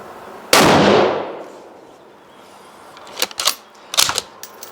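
A rifle fires one loud, sharp shot through a single-baffle suppressor and the report rings out for most of a second, followed by a burst of quieter metallic clatter and rattling.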